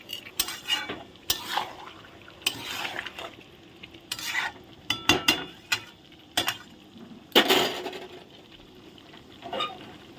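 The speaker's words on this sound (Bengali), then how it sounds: "এখন মশলা একসাথে কষানো হবে" Ground spice paste stir-fried together in a pan while cooking meat, with repeated sharp scraping and clinking strokes of a spoon against the pan over a soft background sizzle, close and irregular, no voices.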